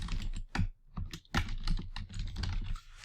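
Quick keystrokes clatter on a computer keyboard, close and fairly quiet, in short irregular bursts with brief pauses between them.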